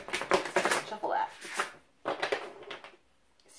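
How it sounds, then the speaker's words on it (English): Tarot cards are riffled and shuffled in a few quick bursts with short pauses between them, close by. "I'm going to pull all the cards now, and then we'll see. Shuffle that."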